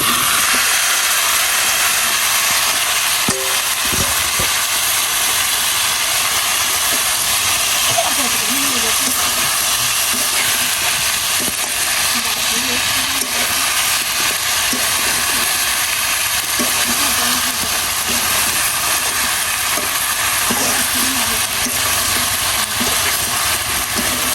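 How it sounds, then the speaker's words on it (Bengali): Chopped vegetables, salted and washed beforehand, hit a hot pan and sizzle in a loud, steady hiss that holds for the whole stretch, with a few faint clunks of cookware. "এবার আমি সবজিগুলো দিয়ে দেবো।"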